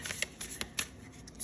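Tarot cards being shuffled and pulled give quick, faint papery riffles and soft flicks, several small bursts close together in a quiet room with no voices.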